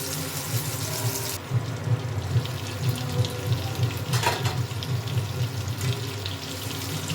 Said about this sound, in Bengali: এইভাবে এবার কোট করে তেলের মধ্যে ছেড়ে দেবো।